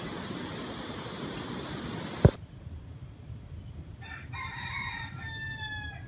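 A rooster crows once from a short distance before dawn in Mindo, Ecuador, a bright, drawn-out call following a sharp thump, over steady outdoor hiss.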